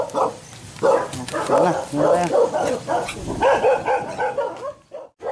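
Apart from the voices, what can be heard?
dogs barking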